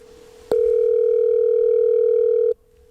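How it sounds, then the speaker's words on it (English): A steady electronic ringing tone on a call placed over a new mobile phone system, one continuous tone holding for about two seconds before cutting off, with quiet line noise before and after. "It's ringing at the very least."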